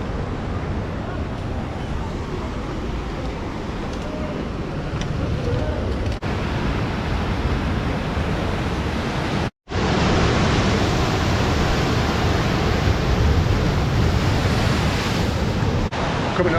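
Ocean waves crash steadily against the shore at Bandra, Mumbai, a dense, continuous roar of surf and wind that holds loud throughout, with one brief dropout partway through.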